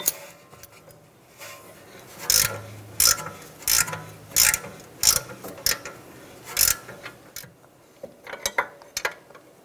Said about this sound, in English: Because there's not a lot of room, I'm going to use the locking pliers on the bottom.